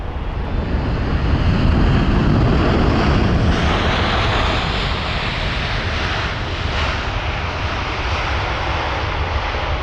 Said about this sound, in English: You can see there the American Airlines 777-300 with the touchdown.